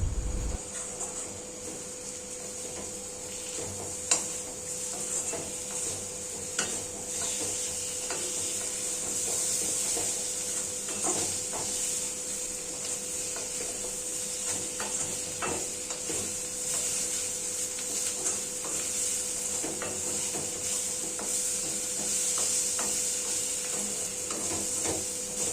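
Potatoes with salt and spices sautéed in a pan while making an egg curry with curry leaves, giving a steady close sizzle and hiss with occasional soft stirring scrapes throughout, no voices.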